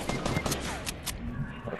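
Rapid automatic gunfire from a video game rattles continuously at close range, dense and unbroken for under two seconds, with faint voices beneath.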